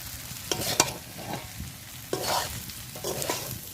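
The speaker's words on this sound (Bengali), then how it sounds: "এবার এর মধ্যে সেদ্ধ করে রাখা নুডলস দিয়ে দিচ্ছি এবার চাউমিনটা দিয়ে নাড়াচাড়া করে নিচ্ছি" Boiled chow mein noodles are tossed and stirred in a hot pan, a close sizzle punctuated by irregular scraping and clattering spatula strokes, with no voices.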